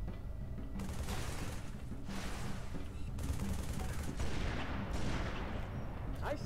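Sniper gunfire in Halo 3 ODST, a run of cracking shots and impacts amid dense battle noise, fairly faint and continuous with no voices.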